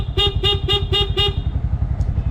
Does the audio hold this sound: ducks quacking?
no